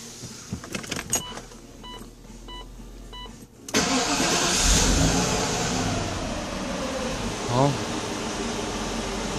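A Mercedes engine with a newly installed mass airflow sensor cranks briefly and catches, settling into a close, steady idle with a short rev partway through, after a few quiet clicks and beeps.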